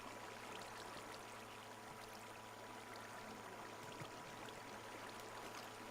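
Steady, even rush of flowing water from an infinite water source in Minecraft, a continuous soft trickling wash with no talk over it.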